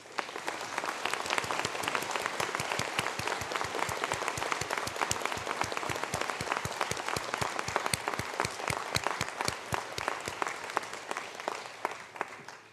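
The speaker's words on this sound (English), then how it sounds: "please stand for a round of applause" Sustained audience applause fills a graduation conferring ceremony hall, a dense, steady wash of many hands clapping at an even level from start to finish with no speech over it.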